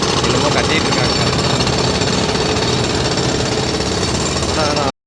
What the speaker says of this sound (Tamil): ஸோ இங்கே ஃபுல்லாக அந்த கன்ஸ்ட்ரக்ஷன் வேலை நடந்துகிட்ருக்கு.